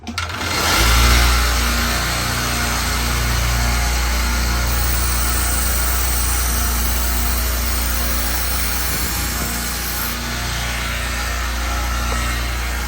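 Belt grinder running with a 600 grit belt for knife sharpening, a loud, steady motor hum and belt whir that spins up at the start and continues unbroken.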